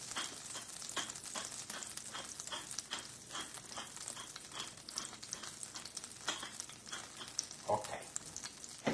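Butter sizzling in a pan over a gas flame for scallops with anchovies and capers, a close crackling fry with rhythmic spatter bursts, no talking.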